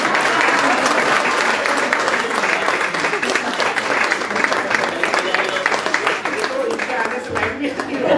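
A church congregation at a Sunday service claps to welcome the pastor, sustained, loud, even applause filling the hall, with murmured voices underneath.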